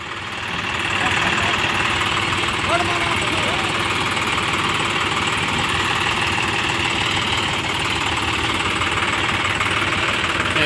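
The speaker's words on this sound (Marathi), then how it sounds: "दोन्ही ट्रॅक्टरचा फुल जोर लावलेला आहे परंतु ट्रॅक्टर काय निघण्यास तयार नाही भरपूर चिखल झालेला आहे" Two tractors stuck in deep mud in a farm field run at full throttle, a loud, steady engine drone with rough knocking that holds without a break throughout.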